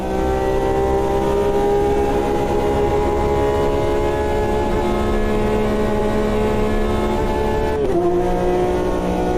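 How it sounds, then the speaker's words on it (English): A Porsche race car engine in the AMS2 racing game, a loud, sustained, strongly tonal engine note holding steady at high revs, with a brief shift near the end dropping the pitch. "This Porsche sounds way too good."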